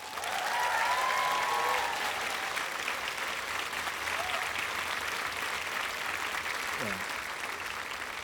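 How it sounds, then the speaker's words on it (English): A concert crowd in a Manchester venue applauds the crew, broad sustained clapping and cheering that swells early and then holds steady, with a faint whistle near the start. "And let's have a massive round of applause for them."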